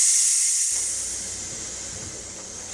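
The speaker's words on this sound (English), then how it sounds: "So hit this valve, let the pressure out all at once." A pressure cooker valve is opened to vent all its pressure at once, a loud sharp hiss of steam that starts abruptly and sustains steadily, tapering slightly before a brief final sputter.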